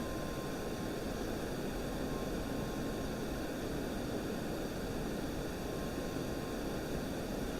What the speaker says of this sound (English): let's give it a little bit of afterburner as we climb here